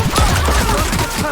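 Rapid gunfire in The Outer Worlds, a loud close burst of several sharp shots in quick succession during a firefight in a sci-fi shooter game.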